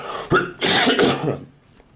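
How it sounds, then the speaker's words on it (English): A single harsh cough followed by a rough throat-clearing burst, close and loud, then fading into quiet breathing. "I've had this mild running cough the whole week."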